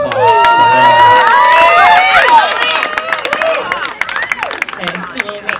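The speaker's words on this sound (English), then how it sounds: "please give me a warm applause for her" Wedding guests cheer and shout for the bride's sister, with many overlapping voices whooping and calling near and far and some clapping in the mix. The crowd noise is loud at first and fades toward the end.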